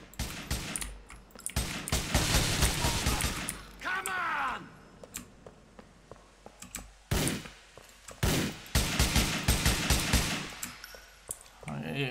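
Repeated pistol gunfire in Grand Theft Auto IV, sharp shots coming in quick clusters with short pauses between them, loud and close, over game ambience while someone talks at points.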